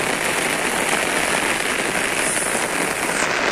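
Heavy rain that has been falling since morning in Hyderabad keeps up a thick, even roar of drops hitting the ground nearby, with faint crackly spatters and no speech.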